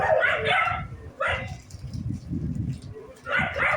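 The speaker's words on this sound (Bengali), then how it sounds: "কুকুরগুলো কি ডাকছে রে" Dogs bark in a few loud, close bursts at home, with a yip or whimper between them, while people talk.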